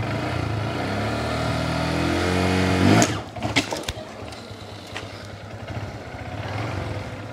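A Honda Grom motorcycle engine revs loud and steady with rising harmonics for about three seconds, then cuts off abruptly as the clutch is popped, leaving uneven bursts and a rougher lower engine note after.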